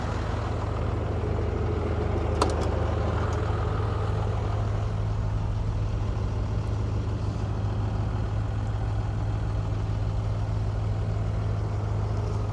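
A 1968 Ford F-250 Ranger Camper Special dually pickup with a swapped Cummins diesel and NV4500 five-speed idles steadily nearby, a deep continuous low rumble with a brief faint knock partway through and no talking.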